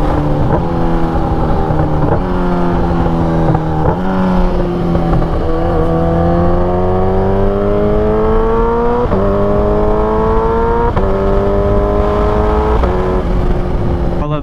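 A Kawasaki Ninja H2 motorcycle accelerates hard, its engine note climbing repeatedly and dropping sharply at each quick-shifter gear change, loud and close throughout with steady road and wind roar underneath.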